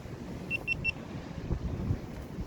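Strong storm wind buffets the microphone on a seashore at New Brighton, a continuous low roaring rumble with gusting surges, plus a few faint high chirps early on.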